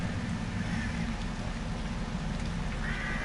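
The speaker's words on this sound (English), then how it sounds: "So we'll get rain" Steady rain falling in a dark alleyway scene of a survival horror level built in the Dreams video game, a continuous close hiss of droplets on the ground running evenly throughout with no talk.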